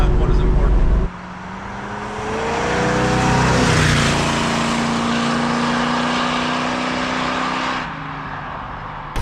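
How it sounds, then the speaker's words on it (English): 1969 Ford Mustang Mach 1 SCJ Drag Pack on the road, engine droning loudly as it accelerates and then holds speed, with tire and road noise mixed in, heard from inside the car. "You hear the tires scrubbing on the road a little bit, but the car feels tight."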